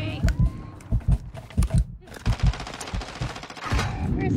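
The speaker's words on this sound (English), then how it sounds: "Oh, shit. I'm being sniped." Rapid bursts of gunfire in a Fortnite match, with sniper shots among them, several quick volleys with a short pause midway, loud and close, under a steady game-sound bed.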